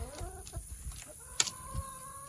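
Chickens cluck in short bursts close by, with a sharp higher squawk partway through and steady background hiss.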